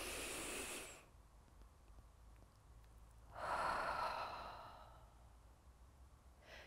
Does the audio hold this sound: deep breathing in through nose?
yes